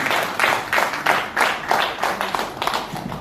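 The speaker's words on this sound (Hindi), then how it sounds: "एक बार आप लोग जोरदार तालियों का सम्मान किए।" Enthusiastic audience applause at an Indian literary event honouring a university professor, dense rhythmic clapping in steady surges throughout, with no voices over it.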